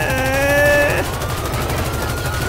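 A Gatling gun mounted on a Lamborghini police car fires in GTA 5. It starts after a brief sustained tonal sound and becomes a fast, continuous rattle of rapid shots, loud and close, with voices faintly underneath.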